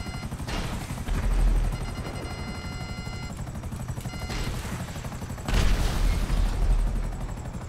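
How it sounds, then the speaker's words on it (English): A helicopter in GTA V Online during the Cayo Perico patrol boat setup, a rotor thrum mixed with bursts of gunfire and heavy booms, loud and close, with sudden blasts around the start and end. "Yeah, that's my helicopter"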